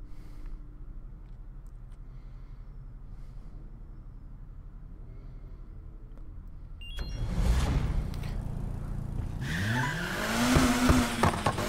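Car in the Need for Speed Heat video game: a low, steady hum for several seconds, then the engine roars in loudly and the tires squeal in rising and falling sweeps near the end.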